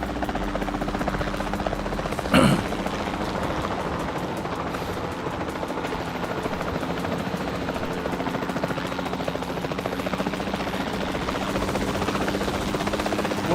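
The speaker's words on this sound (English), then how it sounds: "helicopter" Helicopter rotors in the video game Jurassic World Evolution 2 chop steadily throughout, a continuous mid-distance drone with a brief sharp burst early on and no speech.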